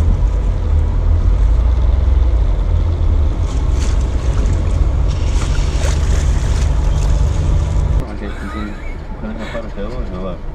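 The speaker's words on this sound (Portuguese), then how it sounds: "dá uma freada, a água vai e volta" Water sloshes back and forth in a small pool set up in a pickup truck bed as the vehicle brakes over speed bumps, heard under a heavy roar of wind and road rumble that drops off sharply partway through.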